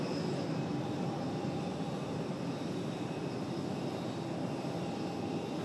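An American Airlines Boeing 737 jet at Raleigh-Durham International Airport, a loud continuous engine roar and whine holding steady throughout, with no voices.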